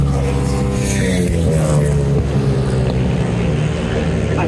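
Sidecar motorcycles accelerate in a French championship grass track race at Saint Macaire, a loud, continuous engine drone with shifting pitch and wind buffeting throughout.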